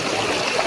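Steady rush of water flowing at a waterfall, a continuous broad splashing hiss at moderate loudness with no voices over it.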